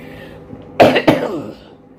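Two harsh coughs in quick succession from smoke and pollution, close and loud, trailing off into quiet breathing.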